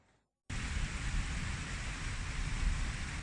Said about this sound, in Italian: Ecco cosa succede quando piove in località Molino Irto Basso di Dipignano